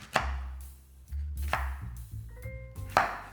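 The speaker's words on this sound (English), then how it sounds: "we just want to cut it into large bite-sized pieces." A knife cuts onion, spring onion if available, into large bite-sized pieces on a cutting board. Three loud, close thuds come at a slow, even pace, with quiet rustling in between.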